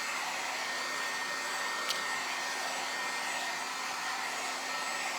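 A hair dryer blows steadily on painted paper scraps for an Easter bunny craft, a continuous airy whir that holds at an even level throughout without any talking.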